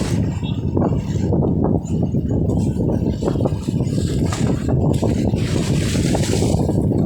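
Strong wind on a seashore roars and buffets the microphone continuously, with rough low rumbling gusts and water sloshing, loud and close throughout.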